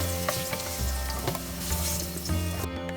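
Potato pieces fry in hot oil with a loud, continuous sizzle and bubbling, broken by repeated stirring scrapes, close up and with no voices.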